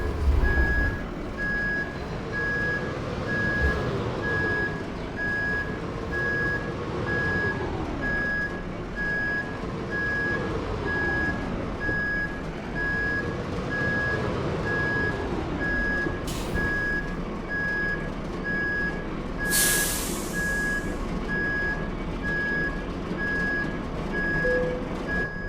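Reversing beeps from a truck backing into a spot in Euro Truck Simulator 2, a steady two-tone repeating alarm over a continuous low engine drone with occasional hiss bursts from air brakes.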